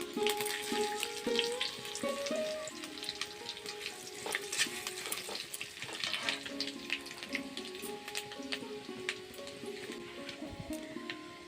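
Panch phoron spices, dried red chillies and bay leaves sizzle and crackle steadily in hot oil, with a dense frying hiss and scattered pops throughout and occasional clinks of a utensil.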